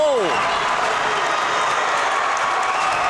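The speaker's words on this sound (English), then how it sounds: "We hear the rockin' Long Beach crowd to our right getting loud, fired up for Richie Bear Jr." A rowdy Long Beach crowd at a varsity ice hockey semifinal cheers and applauds after a power play goal, a steady, dense roar of many voices filling the whole stretch without pause.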